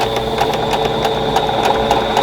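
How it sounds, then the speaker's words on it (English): A sewing machine stitches a quilt block in one steady, continuous run, a close, even mechanical whir with a rapid regular needle pulse throughout. "I'm going to sew this one with the seams down"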